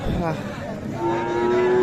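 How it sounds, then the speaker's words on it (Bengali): Holstein Friesian cross dairy cows at a busy cattle market, one drawn-out low moo rising clearly over a steady background of crowd chatter and livestock noise. "এটাও ফ্রিজিয়ান ক্রস ক্রস জাতের গাভী"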